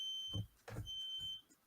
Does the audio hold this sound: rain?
no